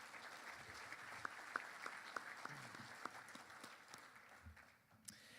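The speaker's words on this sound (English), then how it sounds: "Give them a round of applause." A room of guests at an annual celebration dinner giving a round of applause, faint and distant but steady, with a few sharper individual claps standing out.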